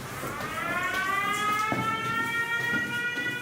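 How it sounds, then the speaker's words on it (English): An air raid siren wails across a Ukrainian city in winter, its steady rising tone of stacked harmonics sounding loud and continuous throughout, with faint background street noise beneath. "The air raid siren goes off,"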